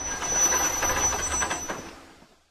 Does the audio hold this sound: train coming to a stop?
yes